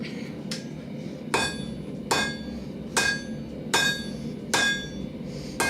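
A ball peen hammer strikes hot steel S-hooks at a forge, ringing metallic blows landing at an even, unhurried rhythm about once a second over a low constant roar.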